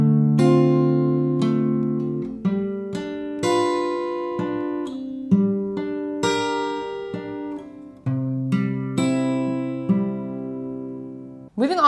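Fingerpicked acoustic guitar plays a song, with clear plucked notes ringing over sustained bass tones in a steady, flowing pattern that stays close and moderately loud throughout.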